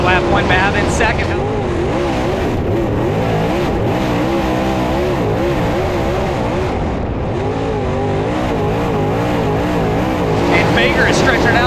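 Dirt track race cars roar around an oval in a 12-lap qualifier at the Gateway Dirt Nationals, engines droning continuously and loud, with a commentator talking over the racing throughout.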